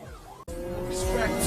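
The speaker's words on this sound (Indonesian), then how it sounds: "Ia terlihat memacu mobil Lamborghini dengan kecepatan tinggi di jalanan kota" A Lamborghini speeds through city streets, its engine roaring loud and close with tire squeal after a brief cut, under a voice talking.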